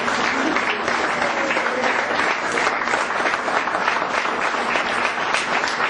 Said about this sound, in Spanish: Brinda otro fuerte aplauso al Señor.